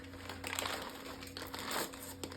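A plastic bag wrapped around a push-to-talk radio crinkles up close in short, soft rustling bursts, faint and close to the microphone, with no one speaking.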